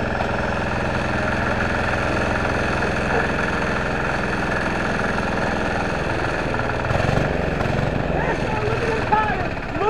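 A go-kart engine running on diesel made from plastic idles steadily and loud throughout, with a brief surge near the end as the throttle is worked, and people talking over it.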